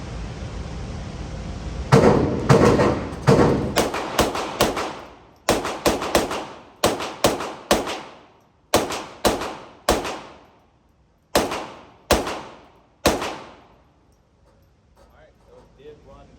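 Taurus TX22 pistol fired at targets in a competition run, sharp close gunshots in quick pairs and triples, some two dozen cracks in all with brief pauses between groups, fading to near silence at the end.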